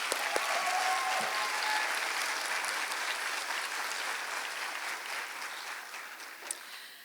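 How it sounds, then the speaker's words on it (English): Steady round of audience applause at a teacher of the year award ceremony, dense even clapping that gradually thins and fades over about seven seconds, with no talking. "I would like to ask everyone to join me again in giving them both a much-deserved round of applause."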